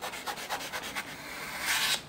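Foam for a prop calf head is being cut, giving soft rhythmic rubbing, scraping strokes that are close and fairly quiet, slightly louder toward the end.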